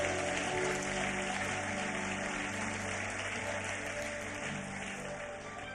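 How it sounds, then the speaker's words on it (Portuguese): Church congregation applauding during a worship service, a steady wash of many hands clapping at moderate distance that slowly fades toward the end. "Você pode aplaudir a Deus."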